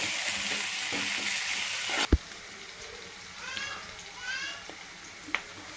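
A ginger, green chili and garlic paste frying in a pan: a broad loud sizzle that drops off abruptly after a sharp knock, then quieter frying with faint chirpy sounds in the background.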